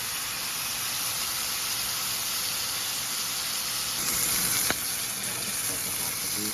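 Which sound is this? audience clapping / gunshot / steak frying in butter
steak frying in butter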